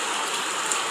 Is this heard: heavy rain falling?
yes